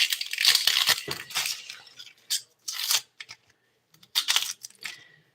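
A knife slices through a peeled onion on a cutting board with crisp, crunchy cuts in a few quick bursts separated by short pauses, close and fairly loud.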